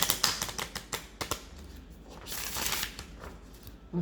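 Oracle cards shuffled by hand in quick riffling bursts, a series of crisp close flutters and taps followed by a softer continuous shuffle.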